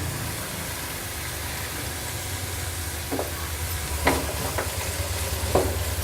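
Capsicum fries with spices in a hot pan for paneer bhurji, giving a constant close sizzle with a few sharp scraping stirs of a spoon against the pan.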